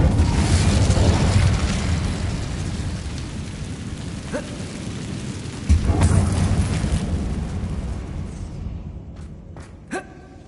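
An Incendio fire spell cast in a Harry Potter video game inside a dark, abandoned mine: a loud whooshing burst of flame that decays slowly, a second surge midway, then fading to quiet with a few sharp clicks at the end.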